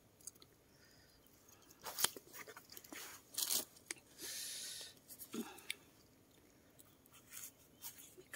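Crisp bites and moist chewing of an old, long-stored apple, close to the mic, with several loud crunches and quieter mastication between them, no speech over it.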